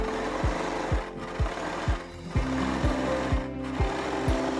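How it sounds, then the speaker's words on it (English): A sewing machine stitches around shirt fabric steadily, its needle thumping in a quick, even rhythm, close by and fairly quiet, with no voices. "And then just take your sewing machine and sew that all the way around."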